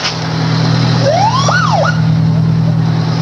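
A fire truck siren wails in a rising and falling sweep as it passes in a 1989 Tampa Bay Festival of Parades street parade, heard over a loud steady engine drone and crowd noise.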